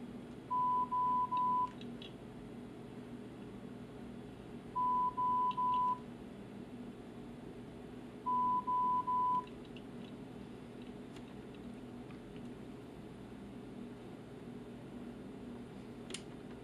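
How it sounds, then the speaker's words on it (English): Hearing-test tones sound in three evenly spaced groups of three short, steady beeps each, clean and moderately faint over a quiet hum of room noise. "continue to push the button when you hear the beeps"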